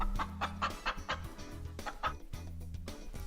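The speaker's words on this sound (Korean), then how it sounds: "닭 9년. 전 세계에서 가장 흔한 가금류죠." Chickens cluck in a rapid, uneven series of short calls, close and clear, continuing throughout.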